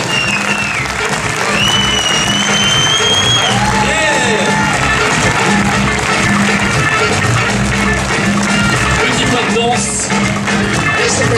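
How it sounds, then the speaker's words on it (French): Loud, sustained applause and cheering from a packed cinema audience at a French film premiere as the director comes down, with voices and whoops mixed into the dense clapping throughout. "On applaudit bien fort et on sort."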